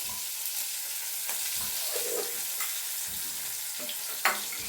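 Cumin seeds and pepper sizzle in oil in a pan: a constant soft hiss with a few scattered pops and light clinks, and no voices.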